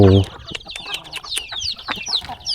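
Chickens clucking and squawking close by at a farm in the morning, with rapid overlapping calls throughout and a short low voice at the start.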